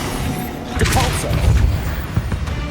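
A Depulso spell strikes in the Hogwarts Legacy video game, a dull booming thud amid a busy mix of other game effects and a character's voice, loud and close.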